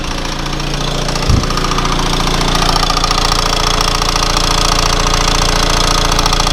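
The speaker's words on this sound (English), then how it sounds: "So it is a bit noisy, but I'm sure this pulley's had it like." A Mini Countryman Cooper SD engine idles with a worn, noisy pulley, giving a steady, loud mechanical drone with a fine ticking texture and one brief thump near the start.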